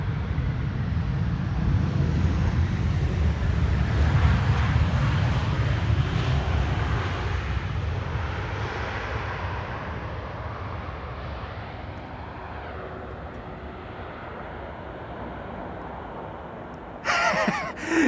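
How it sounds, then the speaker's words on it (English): A Lufthansa A320 airliner landing on Schiphol's Polderbaan runway, with a steady broadband jet roar, loudest early on and then slowly fading as it passes, followed by a short burst of other noise at the end. "Lufty Flight 988 arriving from Frankfurt. That's an A320 and a widebody behind it."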